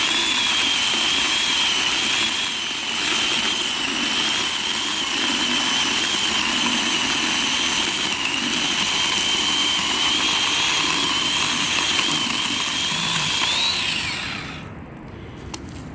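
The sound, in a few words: electric chainsaw cutting tree stump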